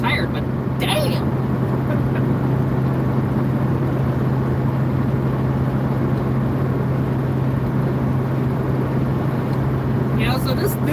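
Steady drone of a tired, low-powered 63-horsepower engine cruising in third gear at about 2,800 RPM on a highway, a continuous low hum with road noise filling the whole stretch, with faint speech in the clip.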